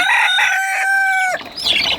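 A domestic rooster crows loudly and close by in one long harmonic call that breaks off into agitated squawking, a caged backyard bird kicking up a fuss.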